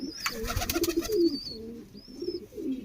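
Kamagar breed pigeon cooing close by in a few soft, throaty, rolling phrases, with faint thin whistly chirps from other birds between them.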